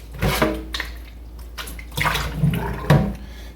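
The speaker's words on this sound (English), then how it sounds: "let me rinse it out again" Water splashes and sloshes in bursts as a plastic container for turkey brine is rinsed out, close and fairly loud, with a few separate pours over about three seconds.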